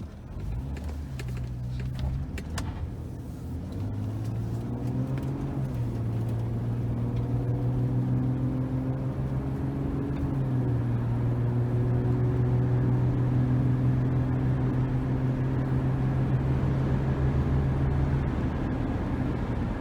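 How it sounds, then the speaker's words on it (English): A 2006 Chevy Trailblazer LT 4x4 pulls away and drives on the road, its engine note climbing steadily through smooth gear shifts, heard from inside the cabin at a moderate level. "Put it in gear, let's get out on the road."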